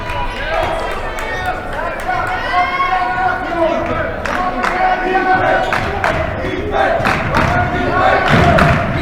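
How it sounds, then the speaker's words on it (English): Loud, raucous crowd at a high school girls' basketball game in a gym, with constant cheering, shouting and chatter, squeaks and ball thumps scattered throughout, and a commentator's voice talking over the din. "A raucous crowd here at the Grutch today"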